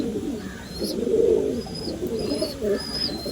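Pigeons coo softly inside a pigeon loft, low rolling calls repeating close by, with faint chirps in the background.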